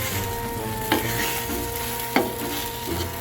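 Egg frying in a pan while being stirred, a steady close sizzle with occasional soft scraping knocks of the utensil against the pan, and no talking.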